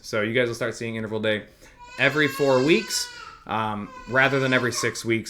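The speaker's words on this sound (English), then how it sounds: "you can probably hear my screaming child right now" A young child screams and wails in the background indoors, high piercing cries in several bursts, mixed in with someone talking steadily over them.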